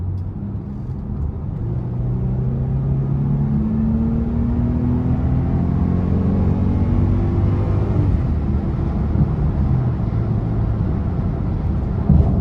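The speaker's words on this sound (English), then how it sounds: "I'm gonna give it a lot of throttle actually as we get on the interstate" A 2011 Mercedes-Benz ML 350 V6 with a 7-speed automatic accelerates hard onto an interstate, its engine drone heard from inside the cabin rising steadily in pitch through the gears over a constant road rumble.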